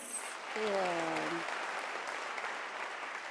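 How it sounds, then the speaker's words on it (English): Audience applause fills a university graduation ceremony hall, a steady, fairly faint and distant clapping wash with a voice briefly heard near the start. "Ladies and gentlemen, may we give him another round of applause?"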